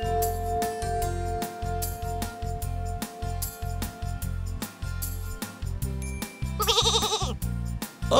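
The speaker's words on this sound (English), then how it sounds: "A sheep. That's right." A sheep bleats once, a clear wavering cry, over a bouncy, rhythmic musical backing.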